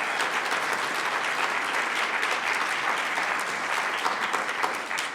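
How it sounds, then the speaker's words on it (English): Sustained, dense applause from an audience at a pitch competition finale, steady and fairly loud throughout with no speech over it. "give a shout out to Bridget and a round of applause for her"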